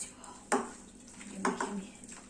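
Chicken pieces being mixed by hand with pakora batter in a bowl for chilli chicken, giving a few brief wet clatters and slaps of bowl and utensil.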